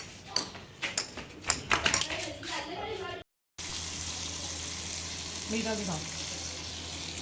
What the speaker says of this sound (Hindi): अब इसकी बोतल भर के रख देती हूँ।